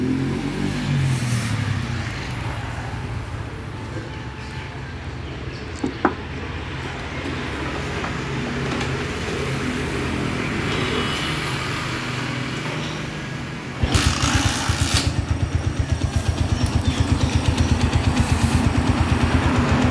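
A freshly assembled Honda GL motorcycle engine, rebuilt with its clutch and magneto, fires up partway through after a low steady background hum, then settles into a loud, close, rapid and even putter that continues to the end.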